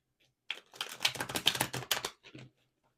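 Tarot cards riffle and slap together during a shuffle, a close, quick burst of crisp papery flutters lasting about two seconds between short silences.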